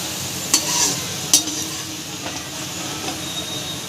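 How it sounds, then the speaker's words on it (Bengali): Bitter gourd slices nearly done frying in a pan, giving a steady soft sizzle with two sharp spatula scrapes early on and fainter stirring knocks after, no voices. "উচ্ছেগুলো প্রায় ভাজা হয়ে এসছে দেখুন"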